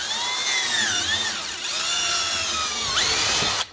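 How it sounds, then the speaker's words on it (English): A power drill bores slowly through the rubber seal strip of a KRX cab door, a steady high-pitched whine that sags and rises in pitch as the bit bites, loud and close throughout with no talk. "As you drill these, just make sure that you drill nice and slow."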